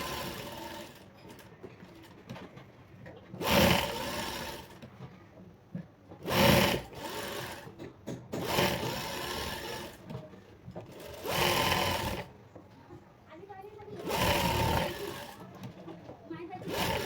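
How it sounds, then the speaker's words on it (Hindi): A sewing machine stitches blouse fabric and its lining around the edges, several whirring bursts of varying length separated by pauses while someone talks in between. "तो हम इसको चारों तरफ से इस तरह से पहले सिलाई मार के ले लेंगे इस तरह से"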